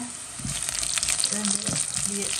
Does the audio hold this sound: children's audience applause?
no